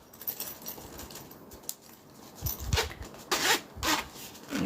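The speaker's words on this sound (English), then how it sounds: "zipper and kind of give it a little push" Fabric rustles and rasps as a zipper is gripped and pushed along during sewing, a series of close, scratchy bursts that grow louder toward the end, with no talk.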